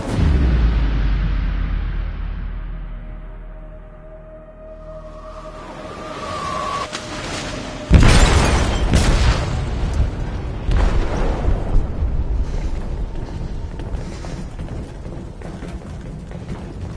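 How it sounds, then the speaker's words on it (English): Explosion detonated in the hold of a ship in a video game, a sudden loud deep blast followed by crackling debris and rumbling, preceded by a fading low roar. "They detonated an explosive in the hold."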